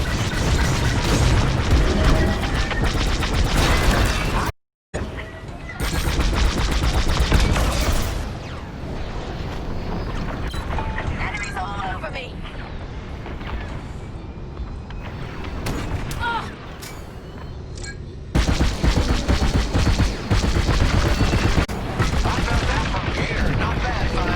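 Starfighter blaster fire in the Star Wars Squadrons space combat game, with repeated booming shots and explosions that stay loud and dense throughout, briefly cutting out once.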